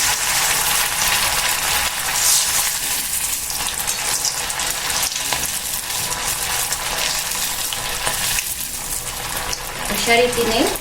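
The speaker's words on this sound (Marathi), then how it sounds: "आपण आता ते जे कटलेट आहेत ते डीप फ्राय करून घेणार आहोत." Aloo poha cutlets deep frying in hot oil give a steady, close crackling sizzle that runs unbroken from start to end, with a brief clatter near the finish.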